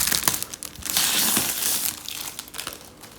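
Packaging of a Yu-Gi-Oh Legendary Decks box being opened, close and loud plastic and cardboard crinkling with bursts of crumpling and brief tearing, no voices.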